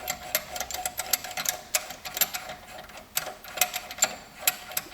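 A PCP-24 clutch puller is threaded into a snowmobile primary clutch, giving rapid metallic ticking and ratcheting clicks in an uneven rhythm, close and fairly loud, with no talking.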